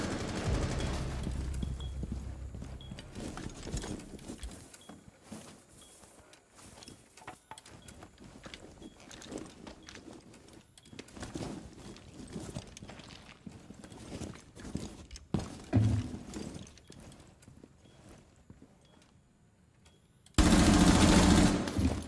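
Rapid automatic gunfire emptying a full magazine in a Rainbow Six Siege match, a long dense burst of rattling shots with scattered impacts, ending in a sudden loud blast of noise.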